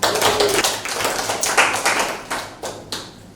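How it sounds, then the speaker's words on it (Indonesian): A class claps hands in a classroom, an uneven run of loud, close claps and taps with strong onsets throughout, no talk over them. "Oke, tepuk tangan."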